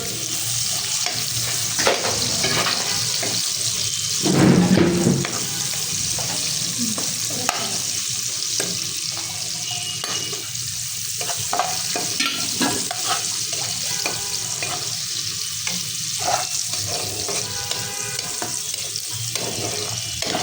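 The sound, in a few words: onions and garlic frying and stirred in a pan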